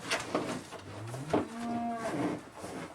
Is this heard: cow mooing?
yes